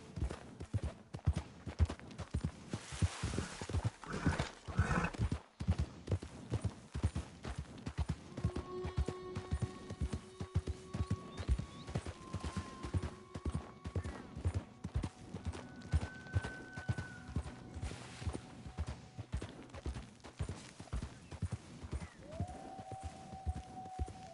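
Horse hooves clip-clopping at a steady gallop in Red Dead Redemption 2, rhythmic and close, continuing throughout with game music tones layered above.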